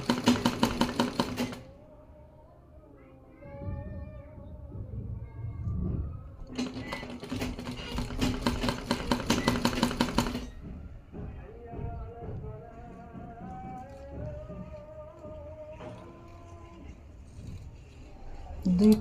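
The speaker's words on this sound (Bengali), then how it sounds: "আস্তে আস্তে করে দিয়ে আমরা সেলাইটা দিয়ে নেব।" A sewing machine sews thin fabric for a baby dress, running in two short bursts of rapid, even stitching close by, with someone talking in the quieter stretches between them.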